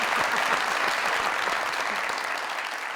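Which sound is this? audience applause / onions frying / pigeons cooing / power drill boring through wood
audience applause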